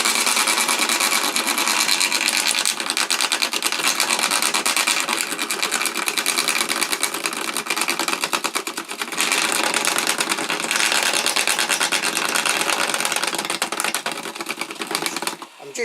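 A wiper motor shredder chews through thick 3D printed plastic about 4 to 5 millimetres thick, making a loud, continuous rattling grind with brief dips near the middle and a sudden stop at the end.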